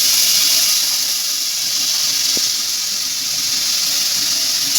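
Chicken in a pan, with a splash of vinegar and a little water just added, gives a steady, moderate hiss of sizzling steam and one brief clink partway through.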